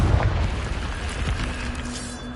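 Confringo fire spell cast in the video game Hogwarts Legacy, a loud booming blast that erupts at the start and then rolls into a sustained rumbling roar, with no one speaking.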